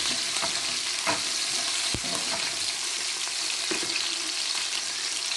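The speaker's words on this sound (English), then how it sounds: "The oil are hot. Just put the onions inside." Onions frying in hot oil for Nigerian fried rice, a loud, dense, continuous sizzle with a few spoon knocks and scrapes, close by and with no speech.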